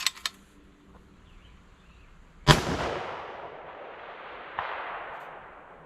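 A single sharp rifle crack from a .25 Creedmoor bolt-action fired at a steel plate 570 yards away, followed by a long rolling echo and a faint later tap. Small clicks come just before the shot, and nobody talks.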